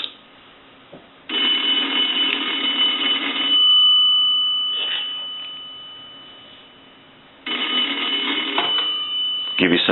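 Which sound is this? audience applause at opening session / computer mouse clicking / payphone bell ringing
payphone bell ringing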